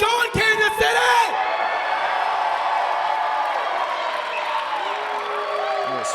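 A crowd of nearly 400 fans at a Kansas City wrestling show cheers and whoops, a steady swell of voices that holds after a brief burst of louder shouts at the start.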